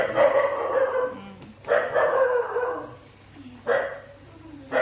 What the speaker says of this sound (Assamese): কুকুৰৰ বৰ ডিষ্টাৰ্ব